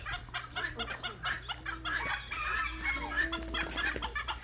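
A chicken clucks repeatedly in short, irregular bursts close by, with a low steady background hum and no talking.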